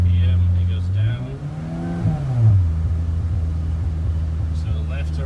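A Honda car engine revs up and drops back while being datalogged, a steady idle hum rising in pitch and falling again, close and moderately loud with someone talking over it.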